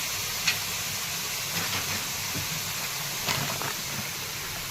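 Radish pods sizzle in hot oil with chili powder and salt for a dry vegetable dish, a steady soft hiss with a few faint clinks, low and close.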